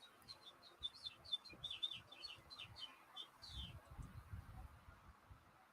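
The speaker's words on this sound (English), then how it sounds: "I keep hearing birds." Small birds chirp just outside a window, a faint series of quick high-pitched tweets in short bursts, followed by low muffled indoor rumbling.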